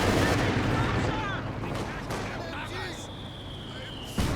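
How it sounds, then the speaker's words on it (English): Tank gun fire and battle noise in the World War II strategy game Company of Heroes 2: dense rumbling booms and crackling shots throughout, with a sharp blast near the end and a voice talking over it. "Tank gun rotating around to fire on this little gap"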